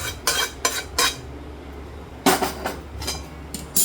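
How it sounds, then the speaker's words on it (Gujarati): Hot sukhdi mixture of wheat flour and jaggery tipped into a ghee-greased plate, heard as a few sharp metallic clanks and scrapes against the plate in separate bursts, with quieter gaps between, close by and with no talking. "હવે આને થાળીમાં ઘીવાળી જે થાળી કરી હતી એમાં આપણે નાખી દેવાનું."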